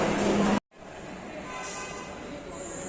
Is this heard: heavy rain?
no